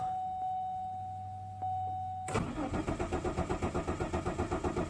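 A Chevrolet Malibu's starter cranks the engine in a fast, even, loud churning rhythm that never catches, preceded by a quiet steady warning chime.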